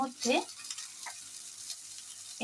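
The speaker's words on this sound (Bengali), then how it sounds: "এবার কিছুক্ষণ একটু নাড়াচাড়া করে নেব" Chilli paneer being stirred in a hot pan, with a short sizzling scrape near the start and a soft steady fry hiss carrying on at low volume after it.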